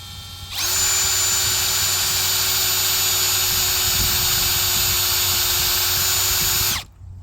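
A drill bores a pilot hole through steel and aluminum, a loud, steady high-pitched whine that starts abruptly, holds at a constant speed for about six seconds, then winds down and stops.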